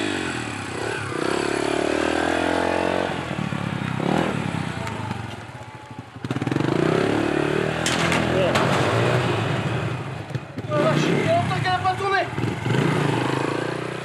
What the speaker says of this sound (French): Il enfourche la moto de Jean-Denis.